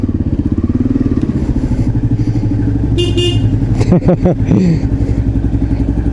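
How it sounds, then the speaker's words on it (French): A motorcycle idles and rides slowly into a home garage after a short ride, steady throbbing engine close by, with a brief higher tone and clattering near the end. "Je rentre dans le garage."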